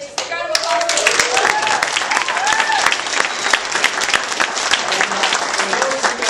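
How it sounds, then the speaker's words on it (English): An indoor audience at a launch party claps loudly and steadily, dense applause sustained throughout, with a few voices and whoops mixed in. "Big round of applause"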